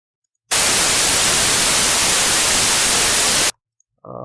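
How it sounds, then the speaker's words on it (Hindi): White noise generated in Audacity plays as a loud, flat, steady hiss for three seconds, starting and stopping abruptly, with a brief tone following. "व्हाइट नॉइज़ जनरेट करते हैं"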